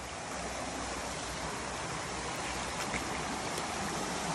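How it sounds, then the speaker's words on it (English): A small creek at Woodhamms Creek in La Honda, California flows steadily, with a continuous close, full-bodied rush and babble of water filling the whole stretch without pause. "this is a good flowing little creek right here"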